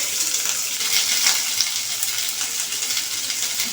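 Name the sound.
potatoes frying in a pan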